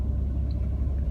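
A car drives through a winter snowstorm with heavy snow falling, giving a steady, close, low rumble of engine and road noise with no talking.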